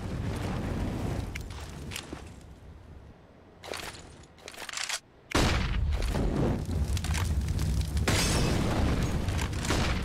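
A molotov lands in a Counter-Strike match between GODSENT and mousesports on Vertigo at CS Summit 6 in 2020, with loud bursts and a roaring surge of flame sound that continues as dense broadband noise.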